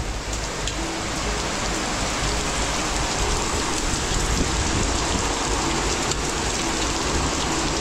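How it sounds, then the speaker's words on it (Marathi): Heavy monsoon rain pours down steadily outside a building's gallery, a dense, loud, unbroken roar with no talking. "पाऊस वाढलाय ना मित्रांनो."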